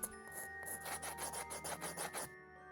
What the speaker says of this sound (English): I sanded it a bit.